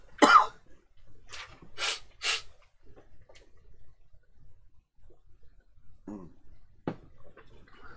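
Several close, loud coughs burst out in quick succession at the start, followed by quieter throat sounds and faint breathing during a livestream, with short pauses between.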